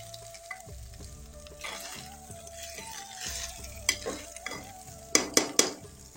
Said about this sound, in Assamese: এতিয়া মই চাউলখিনি অকণমান 2 মিনিটমান লৰাই এনেকৈ ভাজি ল'ম